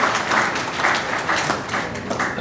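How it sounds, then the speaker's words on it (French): Audience applauding a group of elders at a press house event in Senegal, a steady patter of clapping from a room of people, moderately loud with slight swells throughout. "je voudrais qu'on applaudisse ces anciens"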